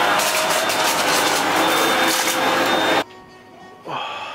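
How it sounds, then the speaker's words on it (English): A household vacuum cleaner roars loudly and steadily for about three seconds, cuts off abruptly, then starts up again briefly at the end. "Can I vacuum it?"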